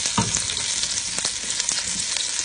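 Okra sautéing in a pot gives a dense, steady sizzle close up, broken by a few sharp stirring scrapes, with no voices.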